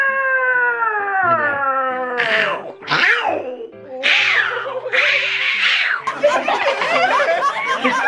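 A person's voice imitates cats fighting: drawn-out yowling caterwauls that bend up and down, then shorter squalling cries, loud and close, with a bit of laughter mixed in.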